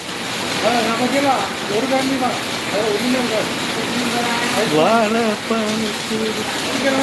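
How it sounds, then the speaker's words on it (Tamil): Heavy rain pours down in a steady, dense hiss that runs throughout, while someone talks over it. "இங்கே மழை சரியான மழை பெய்யுது"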